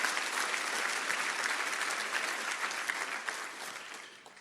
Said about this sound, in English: let's give a nice round of applause to Randy and Maggie for their efforts